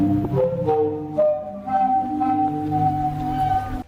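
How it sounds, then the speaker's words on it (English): The sea organ in Zadar, Croatia, played by waves: breathy, drifting organ-like tones rising and falling in long overlapping notes, with soft wave wash underneath. "Zadar has a strange thing called a sea organ that looks and sounds like this."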